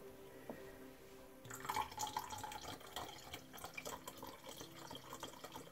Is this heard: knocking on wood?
no